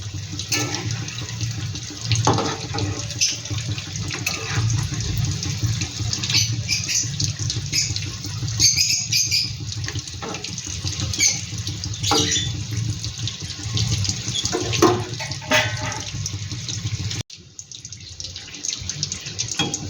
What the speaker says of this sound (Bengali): এইভাবে ফিশ ফিঙ্গারগুলো কিন্তু খুব সুন্দর ভাজা হয়ে গেছে।